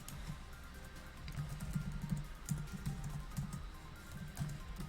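Notes typed on a computer keyboard during a competitive Pokémon match, soft irregular tapping of keys running steadily at low level with no talk.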